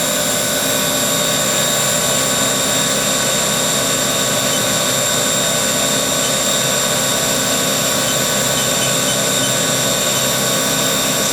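A Haas Super Mini Mill vertical machining center spindle spins at 8,000 RPM, giving a steady, loud, high-pitched whine with a constant tonal hum and no change or pause throughout.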